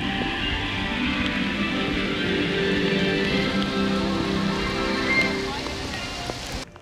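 Rain falling steadily at a Disney theme park, a continuous close patter and hiss of drops on surfaces throughout, loud and even.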